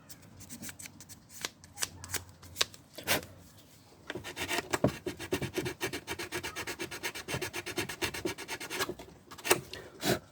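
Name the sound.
hand sanding a broken Porsche rear light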